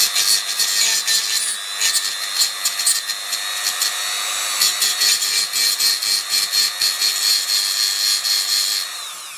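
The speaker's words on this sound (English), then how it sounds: "So I will just quickly use the Dremel." Dremel rotary tool filing a lug off an SX-70 camera, a close, bright high-pitched grinding whine in repeated short rubbing strokes, heard alone without talk.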